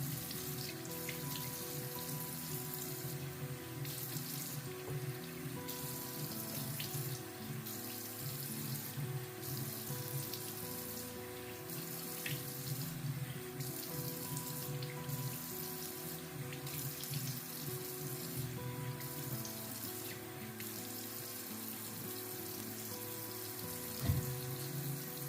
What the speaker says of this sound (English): I'm gonna rinse this off real quick.